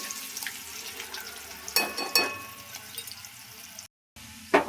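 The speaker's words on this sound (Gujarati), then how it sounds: "તો તેલ ગરમ થઈ ગયું છે, એમાં નાખી દઈશું રાઈ તતડીને થઈ જાય" Mustard seeds crackling in hot oil for a Gujarati vegetable curry, faint sizzling with a few sharper pops and a short burst of crackle near the middle, heard alone at low volume.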